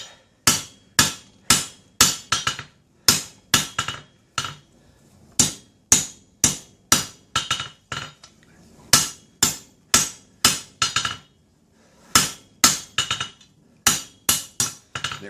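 Steel blade being hammer-forged on an anvil during bladesmithing: sharp, loud ringing hammer blows in quick rhythmic runs of about five to eight strikes, with short pauses between runs.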